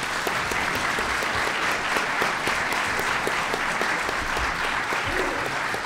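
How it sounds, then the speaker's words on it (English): Audience applauding panelists at a public discussion on bureaucracy, a loud, dense and steady round of clapping that holds evenly throughout, with faint voices mixed in underneath. "A round of applause for our panelists."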